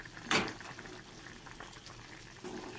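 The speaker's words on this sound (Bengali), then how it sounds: "মাছ ঝোলটা ফুটে গেছে, মাছের ঝোল।" Fish curry boils in a pot, a faint, soft bubbling simmer with one brief louder splash or pour near the start.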